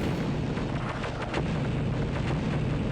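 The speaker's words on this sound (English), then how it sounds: "I'll just spam this blast cannon" Blast cannon firing in the Star Wars Dark Forces game, a loud, dense barrage of booming shots that keeps going without a pause, heavy and close.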